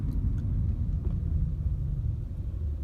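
A car on a highway drive toward the Florida Keys produces a steady low road rumble and engine drone heard from inside the cabin, constant and fairly loud.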